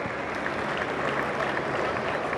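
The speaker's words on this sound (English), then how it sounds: "David Coulthard, a round of applause, please, for the legend that is DC." A crowd applauds at a karting event at Monza, a dense wash of clapping heard from some distance, fairly quiet and steady throughout with a faint murmur of voices beneath.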